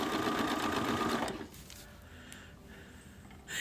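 Bernina sewing machine with a walking foot stitching fabric, a rapid loud mechanical whirring run for over a second that stops abruptly, followed by quieter handling noises and a brief restart at the end.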